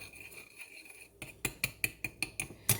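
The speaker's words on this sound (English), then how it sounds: "Now I'm gonna stir all this together." A spoon clinks repeatedly against a pot while stirring ingredients together for a roux on a stovetop for mac and cheese, giving about eight quick, evenly spaced metallic taps after a quiet start.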